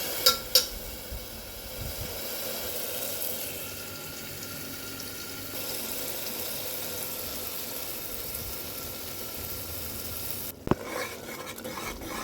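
Masala with salt and chili stirred and sizzling in a pan while preparing a bottle gourd dish, a steady close frying hiss with scraping stirs and a couple of sharp clinks, no talking.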